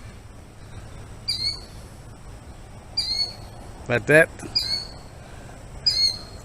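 A killdeer calls in a driveway, giving several sharp, high, repeated cries in short bursts, with a louder cluster of rapid notes near the middle, over quiet background and brief talk.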